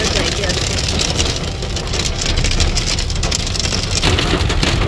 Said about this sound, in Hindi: ओले पड़ रहे हैं।